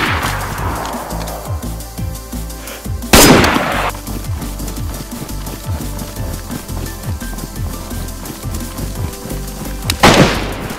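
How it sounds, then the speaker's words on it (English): Repeated gunfire in DayZ on PS5, rapid sharp shots throughout with two louder, closer blasts standing out, no talking. "he just shot at me!"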